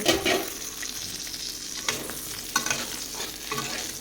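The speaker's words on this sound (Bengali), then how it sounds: "এখানে পটল ভাজা বসিয়েছি" Pointed gourd frying in a pan gives a steady, close sizzle, with stirring scrapes and small bursts of spatter throughout and no talking.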